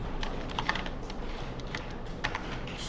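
Keys tapped on a computer keyboard, including the Tab key, as a table is filled in: a handful of light, separate clicks at an uneven pace, close and quiet.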